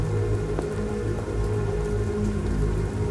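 Steady, dense rain pours down close by in the video game Halo Reach, a continuous hissing wash with scattered drops pattering on a surface.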